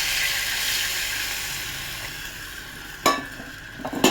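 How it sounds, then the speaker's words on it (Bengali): Steady loud sizzling of a pointed gourd curry for Katla fish, with a sudden splashing burst as a little water is poured into the pan near the end, followed by a few utensil knocks. "এবার আমি সামান্য জল ঢেলে দেবো"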